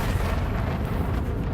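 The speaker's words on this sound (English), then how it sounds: "You can't escape my cannons" Spaceship cannons fire in Elite: Dangerous as a dense, continuous roar of booming blasts, loud and steady throughout with no break.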